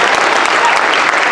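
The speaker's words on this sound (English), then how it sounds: "Let's give them a hand clap." Dense, steady applause from a school audience fills a high school spring concert, loud and continuous for the whole moment with no pauses.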